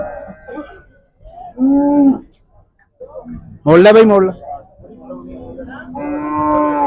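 A cow at the Khanna cattle market moos loudly several times in long, drawn-out calls, close by, with someone speaking briefly between the calls.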